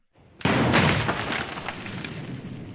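A single sharp gunshot from a TV drama cracks out, followed by a booming echo that slowly decays.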